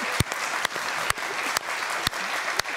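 Studio audience applauding steadily on a TV talk show, a dense continuous clatter of clapping with a few sharper bursts standing out, no voices over it.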